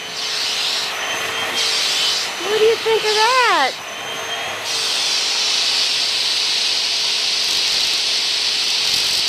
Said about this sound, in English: Kitty cat that likes to be vacuumed.